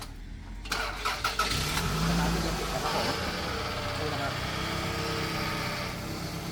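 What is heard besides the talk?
Toyota Camry engine starting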